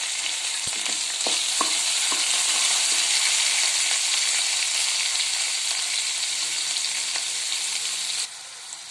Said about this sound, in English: Then added the cut onions and green chilli together.